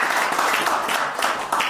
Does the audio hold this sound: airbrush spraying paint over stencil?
no